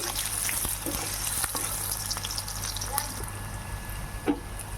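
Continuous moderate sizzle of pumpkin, stalks, potato and lentil dumplings frying in a pan, with occasional soft clicks and stirring noises and a low background hum.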